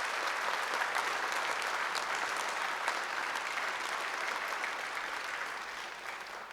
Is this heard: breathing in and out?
no